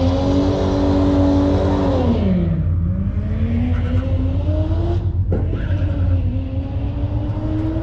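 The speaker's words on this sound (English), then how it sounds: "For those RB26 fans, here's the sound from Ash's car when he launches" An RB26-engined car launches off a drag strip startline at a summer nationals event, its engine roaring loudly and dipping in pitch as it bogs before climbing again, with tire noise under a continuous, close engine drone.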